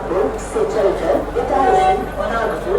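A Central Railway Rajdhani Express pulls in with push-pull locomotives, rumbling and rattling close by with fluctuating roar and a brief tonal squeal, while someone speaks over it.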